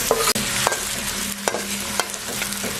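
Chopped onions fry in hot oil in a kadhai for dhaba-style dal, a dense sizzle punctuated by several sharp scraping stirs of a spoon against the pan.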